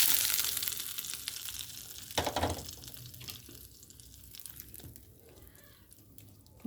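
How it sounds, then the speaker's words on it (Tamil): Mustard seeds, urad dal and cumin tempering in hot oil for a ridge gourd thuvaiyal: a loud sizzling burst at the start that fades to a softer crackle, with a brief clatter midway, close and without talk. "இப்போ கடுகு, உளுத்தம் பருப்பு, ஜீரகத்தை சேர்த்துடலாம்"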